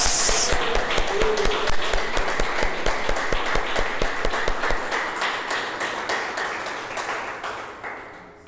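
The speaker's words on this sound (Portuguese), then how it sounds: "Aplauda o Senhor." A church congregation claps in praise, a brisk rhythmic burst of many hands that starts loud and gradually fades over several seconds.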